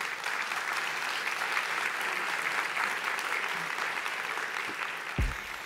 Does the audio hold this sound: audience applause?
yes